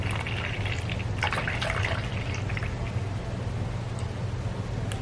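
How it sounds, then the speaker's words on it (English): Milk pours steadily into a blended mango pulp while topping up a mango fruit fool mixture, a continuous close liquid trickle with a low hum underneath and no talking. "So I'm just making that up to 400 ml with more milk."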